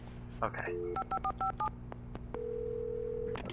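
Telephone dialing in the video game Alan Wake: a short run of quick touch-tone beeps followed by a steady held tone, faint under the game audio, with a brief spoken word.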